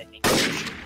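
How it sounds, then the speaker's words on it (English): A single loud, close burst of gunfire in the Garry's Mod Trouble in Terrorist Town game mode, an abrupt crack with a short ringing tail. "Who the fuck is shooting in the ocean?"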